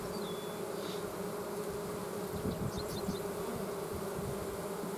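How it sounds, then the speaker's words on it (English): Honeybees hum in a steady, close drone around drawn-out hive frames, a dense continuous buzz with a few higher individual wingbeat whines rising above it. "The bees are busy, busy, busy."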